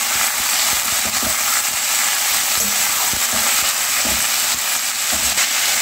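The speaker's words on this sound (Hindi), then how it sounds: "अब डालेंगे ये पटाटो और बीट को जो कट करके रखे थे" Potatoes and beetroot frying in a pan with dry red chilli, chana dal and curry leaves, giving a steady, close sizzle with scattered crackles and stirring knocks throughout.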